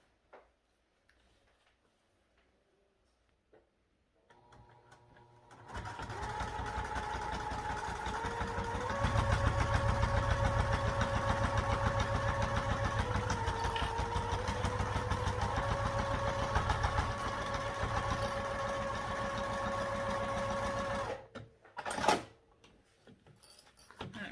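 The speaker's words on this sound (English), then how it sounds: "we'll top stitch down both sides, and since I have cork here, I'm going to use a longer stitch length" Cork fabric is topstitched on a sewing machine with a long stitch length: after a few quiet clicks the motor whirs up into a steady, fast, close mechanical hum with rapid needle ticking for about fifteen seconds, then stops.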